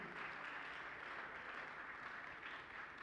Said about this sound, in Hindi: तालियां तो बजाइए।